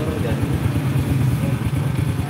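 The engine of a Honda Supra motorcycle, one with an electrical fault, runs close by with a steady, pulsing idle throughout.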